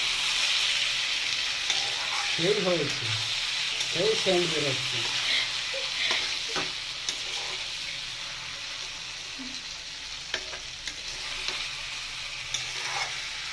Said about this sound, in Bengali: মাংসটা কষানো হয়ে গেছে।